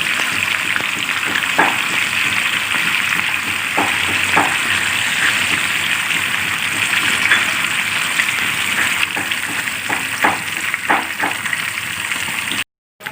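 Steady crackling sizzle of fish frying in hot oil, with occasional louder pops and spatters throughout.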